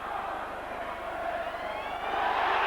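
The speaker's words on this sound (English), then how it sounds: "There's the full-time siren." A loud, sustained full-time siren sounds over a crowd at a rugby league match between Wigan and St Helens, a steady droning tone that swells slightly toward the end with no speech.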